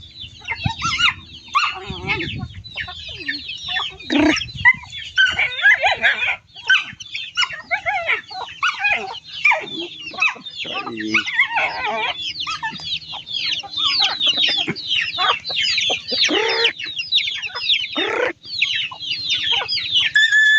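Many chickens clucking and chattering continuously, dense and close, with occasional louder squawks throughout; no talking.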